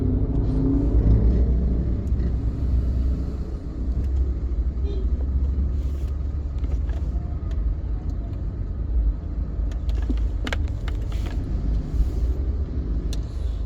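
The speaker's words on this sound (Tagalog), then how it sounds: "Dito lang nag-traffic ng husto." Heavy road traffic, with a steady low rumble of car and bus engines close by and occasional revving, continuous across the whole stretch with no talk.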